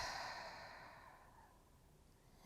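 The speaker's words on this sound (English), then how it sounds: "Deep breath in. And out." A single long, slow exhale during a morning yoga flow, heard close and soft and fading gradually over about two seconds, with no voice over it.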